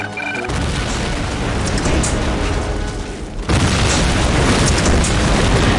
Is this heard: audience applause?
no